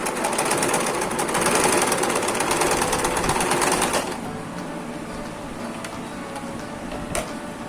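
A sewing machine runs steadily for about four seconds as it back-stitches a fabric headband, then stops, leaving a quiet room with a few faint clicks.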